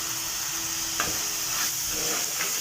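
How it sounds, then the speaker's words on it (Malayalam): Onions and spices for Kerala-style beef thoran sauté in oil, giving a steady, close hiss with a few soft stirring scrapes and no voices. "ഇതെല്ലാം കൂടെ നല്ലപോലെ കുറച്ച് നേരം കിടന്ന് നല്ലപോലെ എണ്ണയിൽ കിടന്ന് വഴട്ടെ"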